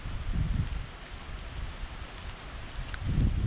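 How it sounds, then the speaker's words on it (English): Rain falling on a farm while preparing for wheat harvest, a steady soft hiss with a few low rumbling thumps, no talking. "More rain."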